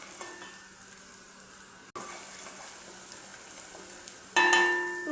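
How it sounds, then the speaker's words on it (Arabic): Onion, garlic and cumin fry in oil while being stirred, giving a continuous close sizzle broken by a brief dropout and a louder surge of hissing near the end, without any talking. "على الزيت ونحركها حتى يحمر البصل"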